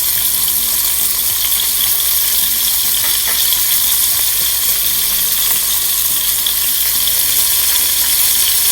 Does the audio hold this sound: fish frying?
yes